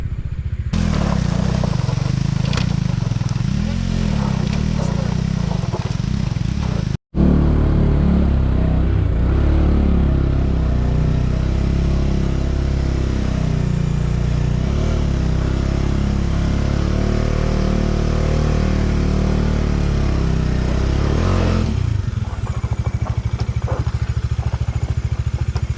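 Motorcycle engine held at high revs with a slipping half clutch while climbing a steep mountain road in Upper Mustang, a loud, steady drone that runs almost continuously, breaking off briefly early on and easing near the end.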